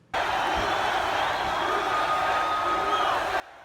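A huge crowd of about 40,000 at a Boy Scout Jamboree roars and cheers for President Trump, a sustained wash of shouts and whoops that starts abruptly, holds steady and cuts off sharply.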